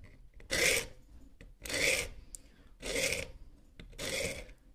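A carbon steel Mora knife edge is worked with a hand file in four slow, even strokes, each a close, harsh rasping scrape separated by short pauses.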